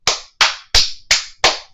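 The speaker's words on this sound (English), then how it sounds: "How did you get an applause out of this?" Five slow, evenly spaced hand claps ring out crisply and close, each a sharp smack with a short tail, and nothing else is heard in between.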